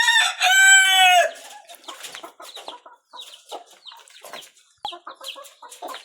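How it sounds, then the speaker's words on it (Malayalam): A rooster crows loudly once, followed by a series of soft, scattered clucks from chickens nearby. "അപ്പം ഇതാണ് ഇതിൻ്റെ കോഴി"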